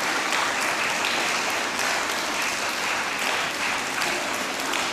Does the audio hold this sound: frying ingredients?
no